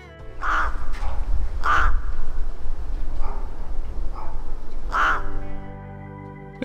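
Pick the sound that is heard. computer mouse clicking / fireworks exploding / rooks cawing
rooks cawing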